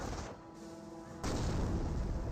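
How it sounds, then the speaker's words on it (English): Incendiary mortar fire in Company of Heroes, a World War II strategy game, with a muffled boom and then a sustained roaring burst of noise that keeps going to the end. "And do got another incendiary mortar there, burning up some of these forces."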